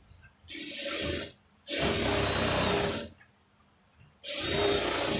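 Sewing machine stitching a blouse sleeve in three separate bursts of rapid mechanical whirring, each lasting about a second, with short quiet pauses between them.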